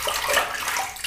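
Water runs briefly from a tap onto a synthetic flat-top shaving brush, a short, close, steady splashing hiss.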